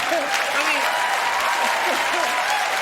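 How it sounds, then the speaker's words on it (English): Studio audience applause on a late-night talk show, a steady dense wash of clapping throughout, with a voice talking faintly over it. "I kept going until I got the applause."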